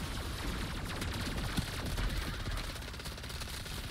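Dense, continuous gunfire from Mangler enemies in MW3 Zombies, rapid overlapping bursts crowding the scene at steady loudness with no pauses.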